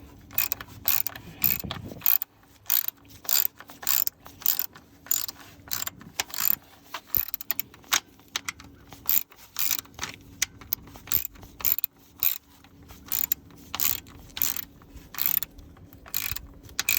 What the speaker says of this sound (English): So this is gonna tighten up everything for the oil pan